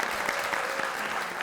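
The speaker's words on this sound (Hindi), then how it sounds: "तालियां।" Studio audience applause on a comedy talk show, a steady dense patter of clapping hands held at an even level throughout the short burst.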